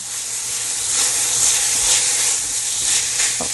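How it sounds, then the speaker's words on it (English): Steady, bright sizzling of pork browning in a hot pan, a continuous crackling hiss close by with small pops, no voices. "The pork has browned slightly. Oh, beautiful. Look at that. Nice and sizzling."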